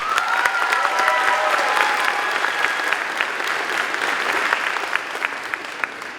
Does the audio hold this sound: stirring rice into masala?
no